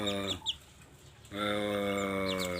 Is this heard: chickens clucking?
yes